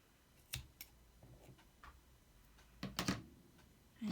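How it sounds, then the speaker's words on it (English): Scissors snip through string while making a small shabby chic gnome ornament, a few faint crisp clicks spread out at quiet, close range with gaps of near silence. "I'm going to cut it here."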